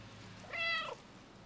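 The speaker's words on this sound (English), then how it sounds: "Meow." A cat in the video game Stray gives one clear, short meow of about half a second, rising and then falling, heard alone over a soft steady background.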